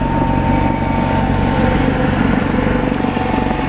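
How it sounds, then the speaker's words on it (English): A helicopter passing low overhead, heard from beside a Suzuki GSX-R1000 superbike fitted with a Yoshimura exhaust, giving a loud, steady rotor and engine drone throughout with no talk. "Nah, it's only a helicopter."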